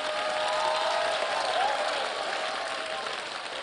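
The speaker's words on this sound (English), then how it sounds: "What applause is that?" Church congregation applauding during a Sunday service, a broad, steady wash of clapping and crowd noise that holds at an even level, with a faint tone sliding through the middle.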